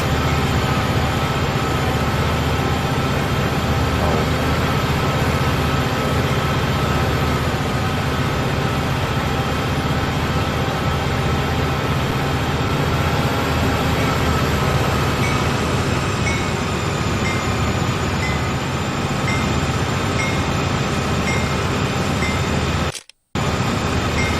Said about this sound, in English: I love the SD40 at full power.